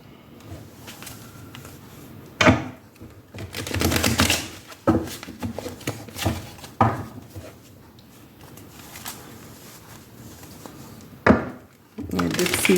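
Tarot cards being shuffled by hand: papery riffles, soft slaps and taps of the deck in irregular bursts, fairly close, with a person talking over parts of it.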